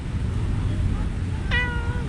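A ginger cat in Antalya gives a single short, clear meow near the end, heard close over a steady low background hum after a stretch of quiet.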